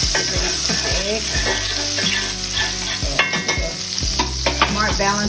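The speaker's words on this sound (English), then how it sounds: "While the wrap is browning and the cheese is melting, I get my egg ready." A spinach wrap browns in a pan with melting cheese on top, giving a loud, close, continuous sizzle with frequent clinks and scrapes of a utensil and no speech.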